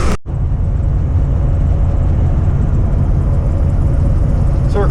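A square body C30 truck with a 632 big block cruises down the highway, its deep engine drone loud and steady throughout after a brief sharp click at the start, with no voices.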